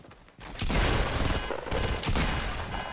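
Gunfire in the Trashnite Royale video game: a dense, loud volley of shots bursting out and continuing almost without a break, with a second surge near the end.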